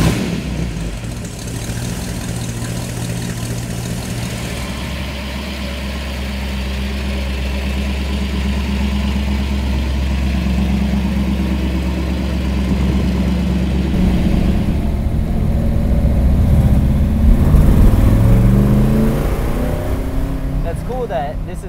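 A 1962 Chevrolet Bel Air bubble top with a 409 engine idles with a deep, steady rumble, then the revs rise as it pulls away, while people talk nearby.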